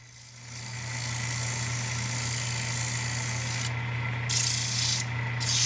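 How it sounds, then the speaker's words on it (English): Close, steady rasping of a flat piece of sandpaper rubbed against the inside of a wooden pulley, continuous scratchy strokes with a low hum underneath and a brief louder pass near the end. "to get a little closer on the inside, just a flat piece of sandpaper"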